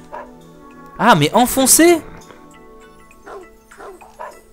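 A dog in the video game Dog's Life barks and yips in a quick burst of loud, close bow-wows, followed by a few softer yaps, while someone talks over and around it.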